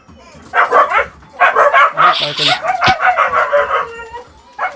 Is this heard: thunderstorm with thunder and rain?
no